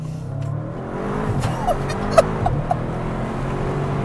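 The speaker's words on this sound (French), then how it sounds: "une petite accélération, vous allez voir, c'est méchant, vraiment" An Audi RS car accelerating hard along a fast road, its engine note climbing in pitch as it pulls strongly, with a few sharp higher tones over a steady rumble, close and loud.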